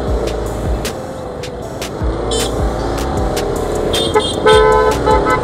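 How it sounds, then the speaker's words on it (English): Heavy road traffic on the way to Nandi Hills near Bangalore on a cold day, with a loud constant engine rumble and repeated car horns honking, some short toots and a longer blare toward the end. "Lot of traffic."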